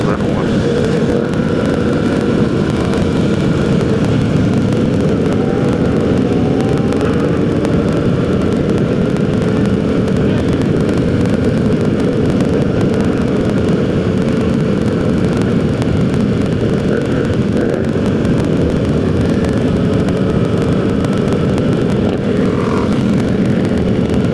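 Large group ride of motorcycles including a Yamaha MT-07, a loud continuous engine roar and wind rush heard from a rider's position, with a voice talking over the noise.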